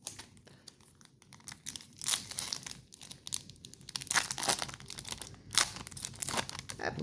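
A Yu-Gi-Oh booster pack is torn open, bursts of close crinkling and ripping foil in irregular bursts that grow busier toward the end, with no talk.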